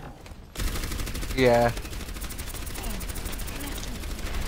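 Gunfire in the Overwatch video game, a dense, continuous rattling burst of rapid shots filling the clip, with a brief game voice line and a short spoken word over it.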